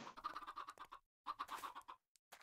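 Chickens in a blocky survival video game cluck in short, steady bursts broken by a brief pause, close and fairly quiet, with no voices.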